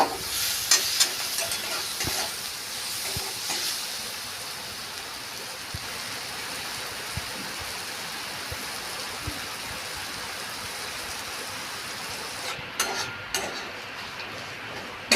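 Grated boiled potatoes with turmeric sautéing in a pan give a steady soft hiss and sizzle, with occasional light scraping clicks from stirring, close and continuous.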